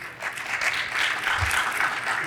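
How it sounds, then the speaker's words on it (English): An audience applauds after a talk at a geothermal engineering expo session, with dense, steady clapping that goes on without a break and is moderately close. "I didn't want to interrupt the applause"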